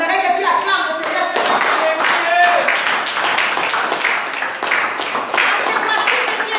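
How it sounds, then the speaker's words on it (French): A church congregation claps together in praise of the Lord during a French-language service: loud, dense, steady hand-clapping that fills the room, with voices mixed in. "j'aimerais que tu acclames le Seigneur"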